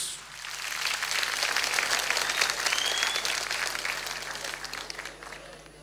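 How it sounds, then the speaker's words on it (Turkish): Studio audience applause on a Turkish television talk show, loud and sustained throughout, a dense wash of many hands clapping that swells slightly in the middle, with no speech over it. "O zaman reklamdan önce o güçlü kuvvetli alkışlarınıza Rafet Duman'ı alıyoruz."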